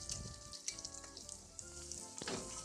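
Sardines fry in a pan over medium flame, a constant close crackling sizzle with a few sharper spits and pops, no voices.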